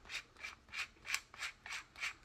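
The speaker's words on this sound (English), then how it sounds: "If I spin this, you can see the chuck widening" A Makita drill chuck is twisted open and closed by hand, making seven evenly spaced raspy rubbing strokes. The close, quiet sound keeps a steady ratchet-like rhythm with no talk.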